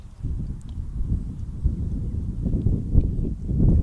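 Gusty wind at an outdoor high school baseball game, Hopkins Academy against Pittsfield, with gusts up to 20 miles per hour; low, rumbling buffeting across the microphone that swells and dips continuously, loudest near the end.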